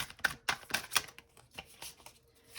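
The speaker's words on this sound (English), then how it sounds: "I love shuffling this deck" Someone shuffles a glossy tarot card deck by hand, giving soft, quick riffling clicks in uneven bursts, close and quiet, with no speech.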